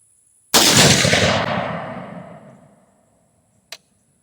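A single loud, close rifle shot from a 6.5 Creedmoor AR-10 fired at a dirt berm outdoors, with a long rumbling decay and one short sharp click from the action a few seconds later.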